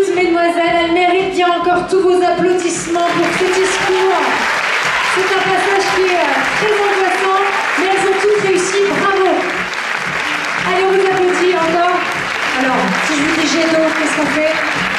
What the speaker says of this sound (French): Elle mérite bien encore tous vos applaudissements pour ce discours.